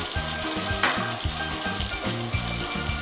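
Ginger garlic paste fries in a pan over a lowered flame, giving a steady close sizzle and crackle throughout. No one speaks.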